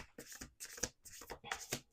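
Playing cards are shuffled in quick riffling bursts, four or five close, crisp rounds.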